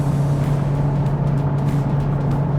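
A new-generation Honda Civic Type R engine drones at a steady mid-speed pitch while driving, holding a constant low hum through a shift from fourth into fifth gear, with road and cabin noise and no talk.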